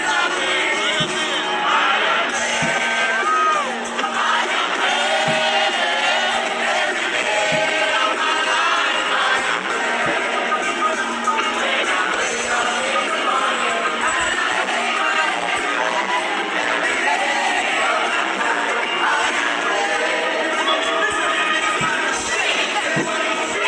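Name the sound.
audience at the Barbican orchestra concert reacting to songs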